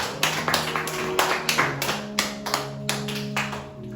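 A church congregation claps in steady rhythm, sharp hand claps falling about three times a second over soft sustained organ-like tones.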